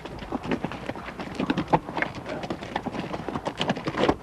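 Mules or horses walking on a Grand Canyon trail, a loose stream of hoof clops on hard ground, fairly close, with faint voices mixed in.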